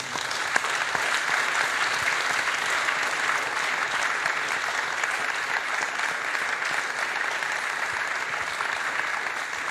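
A large audience at the Blog Forum Gdańsk 2017 gives sustained, even applause, a dense wash of many hands that holds steady for about ten seconds.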